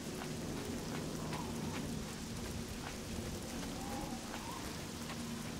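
Steady rain falling in the Elder Scrolls IV: Oblivion video game, a continuous dense patter with faint low rumble underneath, constant and even throughout with no talking.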